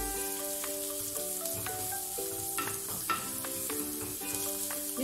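Dates pickle mixture sizzles and fries steadily in a hot pan while being stirred, a continuous close crackling hiss with soft scraping and tonal clinks, no voices.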